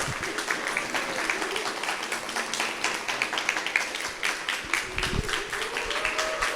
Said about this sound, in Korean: 박수로 봐주세요.